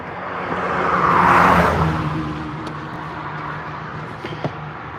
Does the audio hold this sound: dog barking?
no